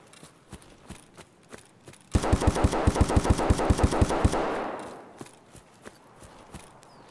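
Rapid automatic gunfire from an Escape from Tarkov firefight, a fast burst of about two dozen evenly spaced loud shots with ringing echo, then a trailing reverb tail and quiet footsteps.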